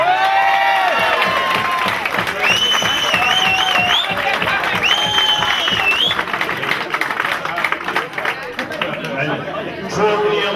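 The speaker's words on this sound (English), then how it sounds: "So a rousing round of applause for the players." Crowd at a Charleville GAA Munster Intermediate Hurling Final celebration cheering and clapping for the players, a loud continuous wash of chatter, whoops and applause, with whistles or shouted calls rising above the din.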